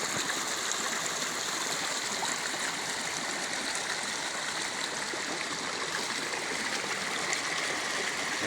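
Clear river water flowing steadily, a dense close rushing and babbling with no breaks, loud and even throughout, with no voices.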